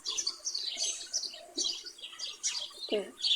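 Quick high video game bird chirps and tweets repeat in short bursts, fairly close, with one lower cooing call near the end; no voices are heard.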